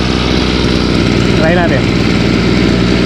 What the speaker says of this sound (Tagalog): Pero yung makina okay na, napaandar na natin.